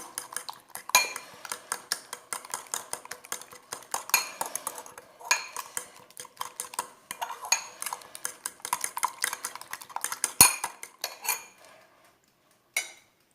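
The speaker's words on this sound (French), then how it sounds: "j'ai dans mon bol une poignée de persil haché ou coupé en petits morceaux avec 2 œufs. Donc, je vais mélanger." A utensil beats chopped parsley and two eggs in a bowl, making rapid, close clinking and tapping strokes in uneven bursts with short pauses, one sharp knock near the end.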